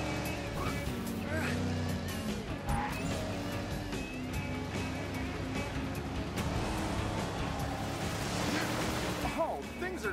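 Race cars speed through a Cars 3 video game race, engines droning and tires squealing beneath a constant layer of game music and character voices.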